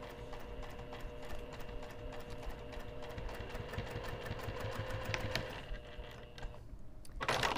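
A sewing machine stitches a bag around a curve, running at a steady slowed pace with continuous rhythmic needle clatter, close and moderately loud, briefly easing before a louder burst at the end.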